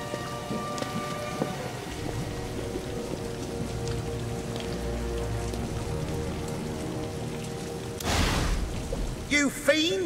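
A heavy rainstorm in the video game Doctor Who: The Eternity Clock, set in Elizabethan London, pours steadily with a low rumble, then a burst of noise and a brief voice-like sound break in near the end.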